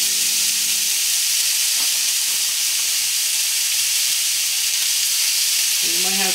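A ribeye steak sizzling in a pan, a loud, steady broadband hiss of frying fat that fills the whole stretch, with a faint voice briefly near the end.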